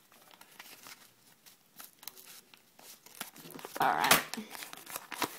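Wrapped traded Pokémon trading cards being unwrapped by hand, with close crinkling and tearing of packaging that peaks in a loud burst near the end, over a faint voice.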